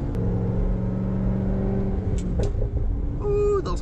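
A Corvette ZR1 driving along, its exhaust rumbling with low engine drone under cabin road noise, a few sharp crackles toward the end, heard from inside the car with no talk.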